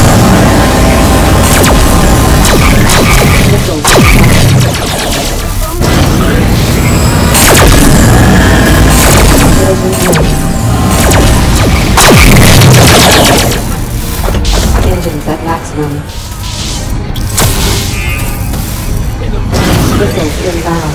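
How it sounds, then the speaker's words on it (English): Incoming missiles explode in the space combat game Rebel Galaxy with heavy booms amid rapid bursts of weapons fire, loud and nearly continuous, while voices come through now and then. "Missile inbound."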